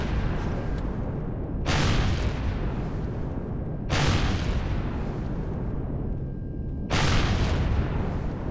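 Turrets fire in the space survival game Empyrion Galactic Survival, with three heavy booming bursts spaced a few seconds apart over a constant low rumble.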